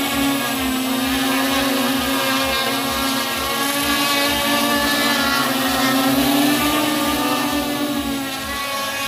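A drone carrying a 1 kg weight hovers with a steady, loud rotor whine and a rapid pulsing buzz, continuous and close throughout with no talking.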